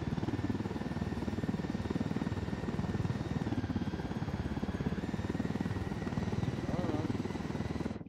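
A helicopter roars steadily overhead in Ghost Recon: Wildlands, its dense rotor and engine drone filling the whole stretch at an even, loud level without letup.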